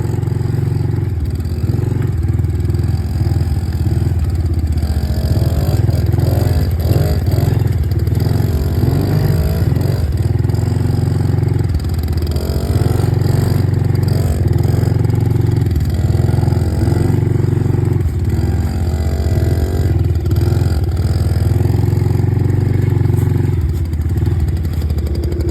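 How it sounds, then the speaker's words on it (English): Dirt bikes ride through snow, their engines droning loud and steady at close range with rising revs and clattering, while faint talk is barely present. "It's tough riding dirt bikes in the snow."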